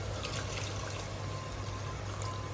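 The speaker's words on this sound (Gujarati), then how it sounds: "તો હવે નામીએ પાણી." Water poured into a pot of desi prawn curry as it cooks, a steady close trickle and splash running unbroken for the whole moment, with no one speaking.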